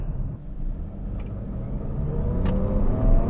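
A 2023 Nissan Rogue with a 1.5 liter 3-cylinder turbo engine and CVT accelerating, heard as a low, steady engine rumble from inside the cabin that builds gradually in loudness, with no talking.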